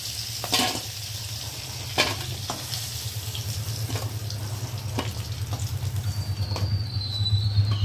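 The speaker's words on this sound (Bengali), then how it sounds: "দেখো কাঁকড়াটা একটু ভালো করে ভেজে নেব" Crab frying in hot oil in a home kitchen makes a continuous crackling sizzle with scattered sharp spits and pops and a low bubbling churn underneath, steady and fairly close.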